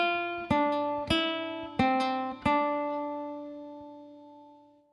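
Four plucked classical guitar notes from the opening measure of Malagueña, played with rest strokes, each clear and ringing on open and fretted high strings, the last left to sustain and fade alone.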